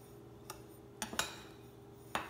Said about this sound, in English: You're going to stir those together